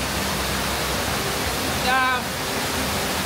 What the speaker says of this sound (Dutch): Waterval achter ons.